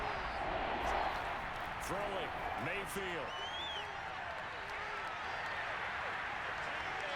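Stadium crowd roar from a Madden 22 football simulation of the Cleveland Browns against the Kansas City Chiefs, a steady broad wash of cheering beneath continuous commentary from a play-by-play voice.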